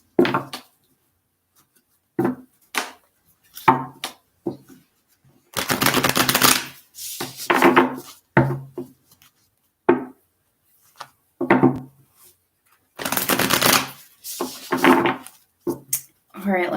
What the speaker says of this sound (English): Just a couple more shuffles here.